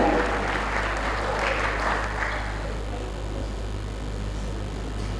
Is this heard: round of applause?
yes